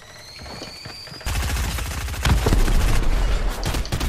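Gunfire in the Fortnite battle royale game: a loud, rapid volley of shots bursts in after a second of quieter game ambience and keeps hammering steadily to the end.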